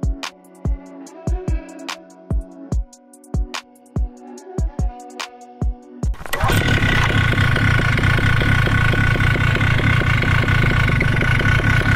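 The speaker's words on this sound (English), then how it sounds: "I want to show you how it sounds when it's too low" A Vittorazi Moster 185 paramotor engine with its low speed needle set too low. Sharp, irregular ticking strikes at first, then the engine bursts into a loud, steady, buzzing roar that runs nonstop at close range.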